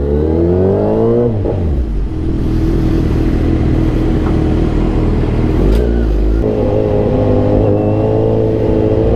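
A Kawasaki Z900 motorcycle engine revs and pulls away in afternoon traffic, loud and close, with rising tones through the gears, a drop, then a steady drone before another climb.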